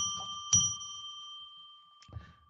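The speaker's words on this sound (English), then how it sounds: "So I'm going to now ring a bell 3 times to declare a sacred space" A bell rung to open a sacred space before tarot readings gives a clear ringing strike that sustains a long bright tone, followed by a second softer tap near the end, close and alone.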